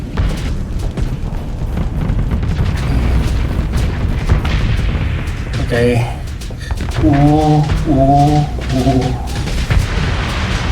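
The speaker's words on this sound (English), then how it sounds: "This explosion can wreck you if you are not careful" Starsector ship combat explosions: deep rumbling booms and continuous low thundering under a voice, with bursts of tonal weapon or alarm sounds partway through.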